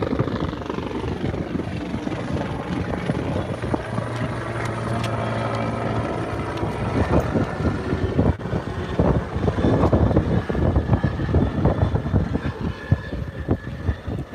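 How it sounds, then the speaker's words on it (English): Close, noisy helicopter thudding overhead with rhythmic rotor chop and engine whine, growing louder toward the end, no speech. "That's a noisy helicopter."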